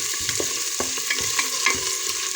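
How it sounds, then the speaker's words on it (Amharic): Onions sautéing in oil for rice kabsa, a steady bright sizzle close up with a run of quick clinking and scraping stirs spread evenly throughout, no speech. "ሽንኩርቱን እያቁላላሁ ነው።"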